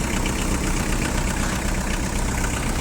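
A Kubota X-20 tractor's simple four-cylinder diesel idles steadily, a close, even, continuous rumble with no surges or misses.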